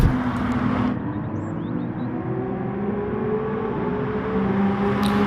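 An AMG race car engine in a racing video game, a steady close drone passing a Porsche on a bridge, with a sustained tonal whine and a faint higher whistle, no talking.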